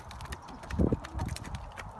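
Horses walking on a farm in muddy, wintry conditions, their hooves clip-clopping in an uneven rhythm, close by, with a louder cluster of steps in the middle.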